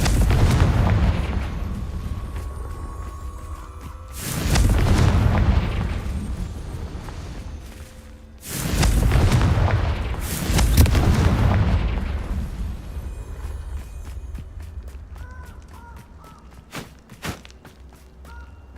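Confringo fire-blast spell exploding in the video game Hogwarts Legacy, three heavy booming blasts with long rumbling tails, loud and close, followed by lighter clicks and small effects.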